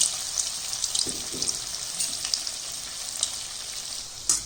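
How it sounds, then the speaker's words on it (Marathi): Poha balls deep frying in hot oil over medium heat: a dense, steady hiss of bubbling oil, close and even, with a few faint knocks. "मध्यम गॅसवरती चांगलं करून होईपर्यंत आपण हे तळून घेणार आहोत"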